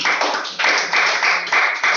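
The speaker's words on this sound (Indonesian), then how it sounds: "tepuk tangan buat kelompok 5" Steady applause from a group, a dense crackle of many hands clapping close by without a break.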